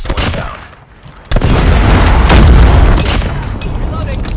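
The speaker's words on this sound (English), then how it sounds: "Be advised, hostile Predator missile inbound." A Predator missile strike in the Call of Duty Mobile shooter game lands with a sudden loud blast after a brief lull, followed by a sustained roaring rumble and scattered gunfire; voices speak during the clip.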